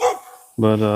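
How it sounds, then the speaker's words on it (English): Dogs bark in the background near a house along a rural Missouri roadside, one bark up front and then a louder, sustained bark or howl, with a short word of speech at the start. "Excuse the dogs in the background."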